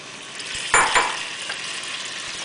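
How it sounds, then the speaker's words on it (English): Fresh tomatoes hit a hot pan for puttanesca sauce with a sudden hissing sizzle that fades to a lower steady frying sound, with a faint clink of a utensil, close and alone. "we're going to throw our fresh tomatoes in now"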